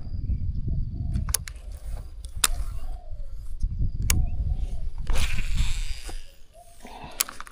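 A cow moos in low, drawn-out calls near a grassy fishing spot beside KLIA2, with bursts carrying over outdoor noise and sharp knocks throughout.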